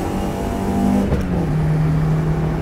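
A VAZ 2114 car engine revs hard, then drops pitch abruptly as it makes a harsh gear change and settles into a steady, loud drone, heard close up without talk.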